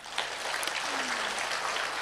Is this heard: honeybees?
no